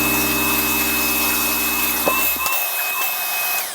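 A DIY bucket dust collector vacuum on a test run in a workshop, a loud steady whine and roar that cuts off abruptly partway through, leaving quiet room noise with a faint lingering tone.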